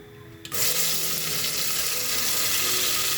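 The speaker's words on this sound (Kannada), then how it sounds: "ಮಸಾಲ ಹಸಿ ವಾಸನೆ ಹೋಗ್ಬೇಕಂತ ನಾವು ಫ್ರೈ ಮಾಡ್ಕೊಬೇಕು" Ground masala paste hits hot oil with mustard seeds and fresh curry leaves, bursting into a loud, steady sizzle after a brief quiet start and holding evenly to the end.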